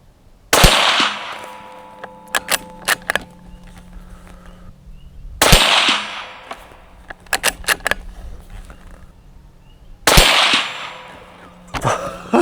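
A Marlin 783 .22 Magnum rifle fires three sharp, loud shots about five seconds apart outdoors in wind, each followed by clicks and clatter from working the bolt.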